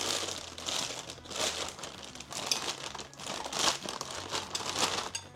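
Pastry piping bag being folded back and turned over on itself by hand, giving soft close-up plastic crinkling and rustling in irregular bursts across the whole stretch.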